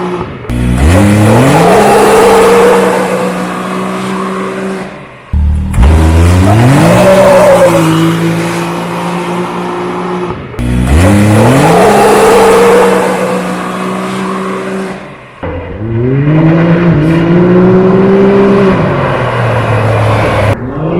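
A tuned offroad vehicle's engine revs hard on a dyno in four separate loud pulls, each climbing in pitch to a sustained high-rpm roar before cutting off to a short pause.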